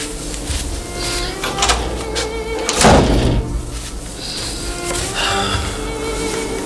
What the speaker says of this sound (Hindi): मैं दरवाजा लगा दूँ।